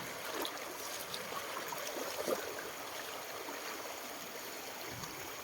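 Steady rushing of a waterfall at a campground in Suan Phueng, Ratchaburi, Thailand, a continuous broadband wash of flowing water at moderate distance with no voices.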